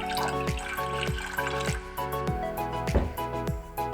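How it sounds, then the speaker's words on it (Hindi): Water pours into a pan for a kadha, roughly three cups, with a rhythmic series of splashing, gurgling drips repeating steadily at close range. "इसमें हम अगर एक बंदे के लिए बना रहे हैं तो कम से कम 3 कप पानी हमने इसमें डालना है।"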